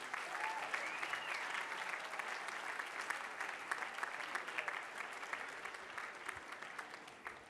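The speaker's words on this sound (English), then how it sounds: "Let's give them a round of applause and thank you." A large audience at a graduation class day ceremony applauds, a dense, steady wash of clapping that holds evenly for several seconds without a break, heard from within the hall.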